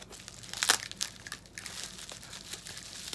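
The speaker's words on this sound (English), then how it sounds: "So here we go, unwrapping." Crinkly plastic and paper packaging being pulled off a ball-jointed doll, a Napalm Doll Hush, with soft rustles and a few sharper crackling bursts, close and fairly quiet.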